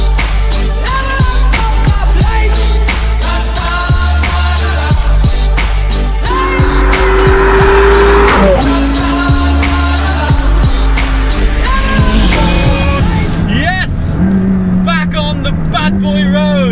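Supercars drive and rev along a winding European road toward Monte Carlo, engine notes climbing and dropping through gear changes with a passing vehicle, loud and close beneath someone speaking.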